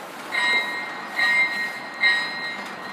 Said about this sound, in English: It's got a bell.